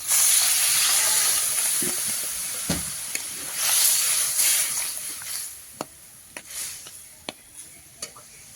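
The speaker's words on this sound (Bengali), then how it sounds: "আলুটা ভালোভাবে কষানো হয়ে গেছে এবার দিয়ে দিচ্ছি জল" Water poured into a hot pan of sautéed potato curry bursts into a loud, broad hiss of steam that gradually fades, followed by a few sharp spoon taps against the pan.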